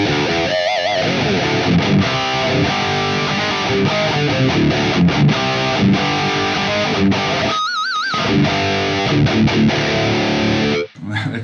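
Distorted electric rhythm guitar through amp plugins in a mix, a thick, continuous heavy wall of chugging chords with a brief pitch-wobbling bend, cutting out sharply near the end before resuming.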